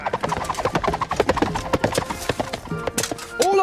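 A donkey's hooves clip-clop in a quick, uneven rhythm on a hard surface, with a brief neigh-like bray near the end, as a medieval-style sound effect.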